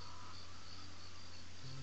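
Bees in the Banjo-Kazooie video game give a steady, continuous buzzing drone over game music, even and unbroken throughout, with no voices.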